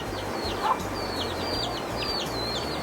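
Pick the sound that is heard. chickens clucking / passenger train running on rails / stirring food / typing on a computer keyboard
chickens clucking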